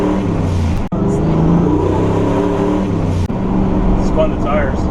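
A modified turbocharged Ford 460 truck, about 120 horsepower over stock, accelerates hard with its tires spinning, a loud continuous engine roar lasting throughout, with faint voices in the cab.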